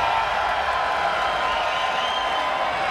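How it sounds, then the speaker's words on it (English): A large crowd at a PUBG esports final at IEM roars and cheers continuously, a dense steady wash of voices with scattered whoops, loud and sustained throughout. "Crowd, make some noise!"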